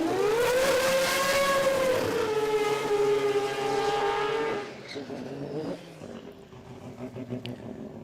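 A Mazda RX-9 race car at the Garrett Brisbane Jamboree revs hard with a loud, buzzy rotary-style engine note that rises and holds, then drops off abruptly into rougher, fluttering idle and crowd noise.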